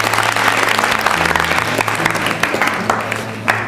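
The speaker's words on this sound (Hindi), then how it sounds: "सभी के लिए जोरदार ताली बजाइए।" A loud, sustained round of audience applause at a state-level election quiz show in Rajasthan, dense clapping from a crowd with low hum and faint voices beneath.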